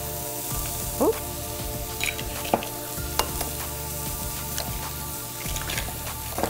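Eggs cracked into a hot pan already frying with ham sizzle steadily, with a few soft taps and crackles over the constant hiss; one brief voiced exclamation breaks in.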